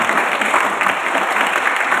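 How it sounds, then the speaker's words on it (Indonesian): Steady, dense clapping from a large seminar audience, loud and continuous for the whole stretch, with no voices standing out. "boleh tepuk tangan lagi untuk teman-teman yang sudah memberikan pertanyaan tadi"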